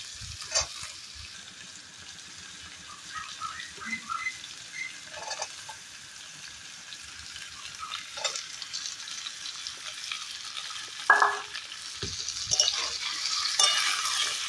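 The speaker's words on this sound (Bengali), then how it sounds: "এখানে আলু আর গাজরটাকে খুব ভালো করে ভেজে নেব।" Potatoes and carrots fry in oil with a soft, steady sizzle and patter, joined by occasional stirring scrapes and clinks as the pieces are turned.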